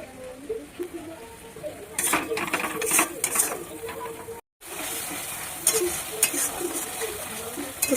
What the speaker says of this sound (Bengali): সর্ষে দিয়ে দিয়েছি মানে সর্ষে বাটা দিয়ে কষিয়ে নিচ্ছি